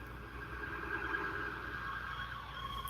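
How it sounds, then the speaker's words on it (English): A distant siren wails faintly and steadily beneath a low background hum, with no voices. "You hear the sirens?"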